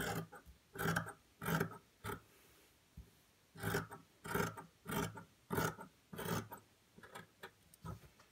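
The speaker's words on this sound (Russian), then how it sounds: "Здесь мы режем по припуску." Scissors cutting fabric along the seam allowance of a Tilda doll skirt piece, trimming an uneven edge; a run of close, crisp snips and rasping cuts in an irregular rhythm, quiet and heard alone.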